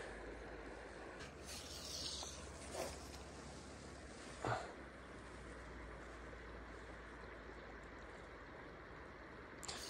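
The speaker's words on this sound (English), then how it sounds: "River's really moving over there and it's barely moving right here." A steady, faint rush of the Snake River in Wyoming fills the whole stretch, with a couple of brief louder splashes along the way.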